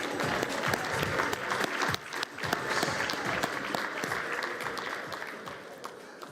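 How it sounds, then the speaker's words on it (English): Sustained applause from a conference audience of public administrators fills the room, a dense, steady wash of many hands clapping at an even level for about six seconds with no speech over it. "Let's give him another round of applause"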